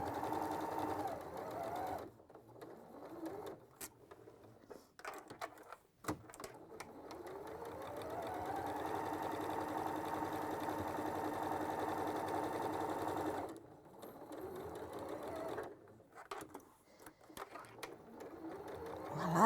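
A 680 Plus sewing machine stitching fabric with a quarter-inch foot at a sewing event, a steady close whirring hum in several long runs separated by brief pauses, with people chatting faintly around it.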